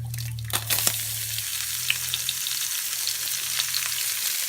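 Onions frying in butter and oil in a pan, a steady close sizzle with a couple of brief clinks of utensils at the start.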